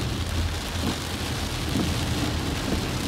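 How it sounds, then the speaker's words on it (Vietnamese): Heavy rain pours outdoors during a storm in Phu Quoc, a dense, unbroken roar of falling water with low rumbling underneath, steady and loud throughout. "hiện tại là ở ngoài trời mưa rất là lớn mưa nặng hạt lắm nha mọi người"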